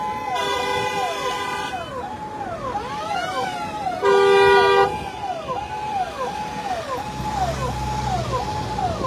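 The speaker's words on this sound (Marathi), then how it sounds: "संघर्ष योद्धा मनोजदादा जरांगे पाटील यांचा विराट ताफा निघाला आहे" A large political motorcade of cars departs on the road, its horns tooting in repeated short overlapping honks with a siren-like wail, loud and close, while voices carry faintly underneath.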